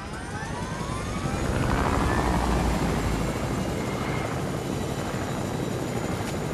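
A light blue helicopter in the video game Fortnite drones with a loud, steady rotor roar that swells slightly and holds throughout, with no talk over it.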